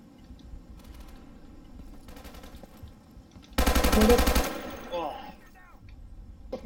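Gunfire in the video game Insurgency during a co-op match: a dense burst of rapid automatic fire cuts in loudly for about a second over a steady game soundscape, while players talk excitedly in German.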